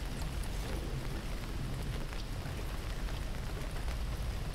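Storm rain in the Hausmeister II video game falls as a dense, steady wash of rain hissing on surfaces, continuous and even throughout, with no voices.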